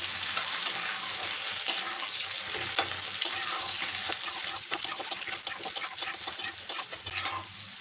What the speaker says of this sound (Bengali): ডিমগুলো দিয়ে আমি হালকা ভেজে নেব।